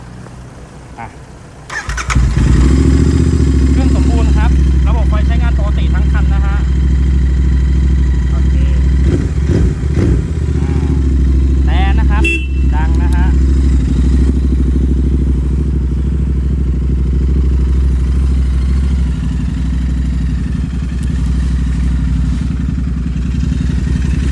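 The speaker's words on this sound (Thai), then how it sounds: "เดี๋ยวเรามาสตาร์ทฟังเสียงเครื่องยนต์กันดีกว่า" A 2020 Royal Enfield Interceptor 650 motorcycle engine cranks and catches, then settles into a loud, steady idle with a deep throbbing rumble and a few clattery revs.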